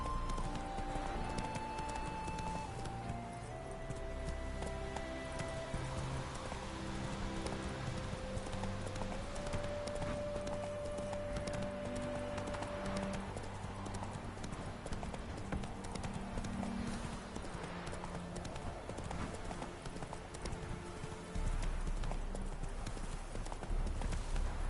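Hooves of the horse Roach clip-clop in a steady trotting rhythm through The Witcher 3, continuous and moderately close under game music, with a voice speaking over it.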